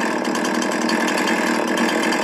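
Steady, loud chainsaw drone from limbing trees in the Farming Simulator 19 video game, running continuously with no pauses and no talk over it.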